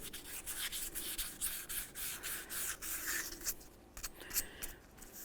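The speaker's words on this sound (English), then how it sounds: "we'll just go ahead and use some sandpaper. We're just going to make sure that this is clean and free of any debris." Steady, scratchy rubbing of sandpaper over a front wheel hub on a 2011-2016 Hyundai Elantra being cleaned of debris, close and continuous with quick back-and-forth strokes.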